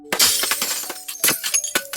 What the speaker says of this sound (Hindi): अचानक स्टाफ रूम का कांच टूटने की तेज आवाज आती है।